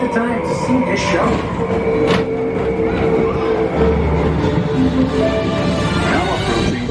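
Steady rolling rumble of a small people mover ride vehicle gliding along at Walt Disney World, with faint clacks and mechanical hum, a recorded voice announcing the approaching station over it.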